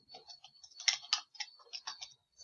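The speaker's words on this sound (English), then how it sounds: "I'm going to type my name." Quick, irregular key clicks of someone typing a name on a computer keyboard, close by and fairly quiet, with short bursts of several taps and brief pauses between them.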